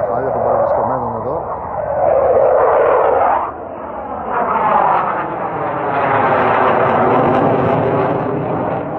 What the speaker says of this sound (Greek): Ακόμα μια διέλευση σε πολύ χαμηλό ύψος πάνω από τα κεφάλια των παραβρισκομένων εδώ.